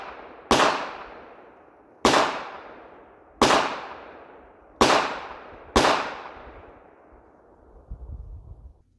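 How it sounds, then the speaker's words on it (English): Five loud, sharp .50 Beowulf rifle shots ring out at an outdoor range, evenly spaced about every second and a half, each with a decaying echo, fired into solid aluminum cylinders. "pop a few rounds into these cylinders, see what it does"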